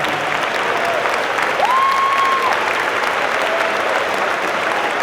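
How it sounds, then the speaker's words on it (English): A convocation audience at an Albany State University homecoming event gives Dr. Freeman a big, steady round of applause that fills the whole stretch, loud and dense, with a faint whistle-like tone riding over it. "So I want you all to give him a real big round of applause"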